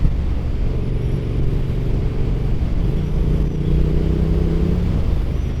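Triumph Street Twin motorcycle engine, ridden in wet conditions, holds a steady low rumble with a rising rev swell in the middle, close and continuous over road noise.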